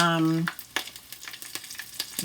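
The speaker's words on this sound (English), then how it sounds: "I'm gonna be frying the fish now" Fish fries in oil seasoned with garlic, thyme and Scotch bonnet pepper, a brief close crackle with quick bursts of popping and spattering, and a short voice at the start.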